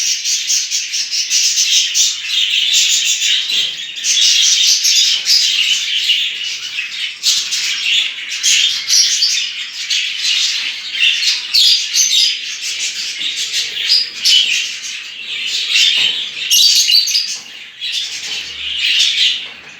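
Budgerigars bred at home chirping and squawking while feeding on boiled cracked grain, a dense, continuous chatter of many birds close by, loud and steady without any talk.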